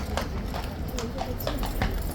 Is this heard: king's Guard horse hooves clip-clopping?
yes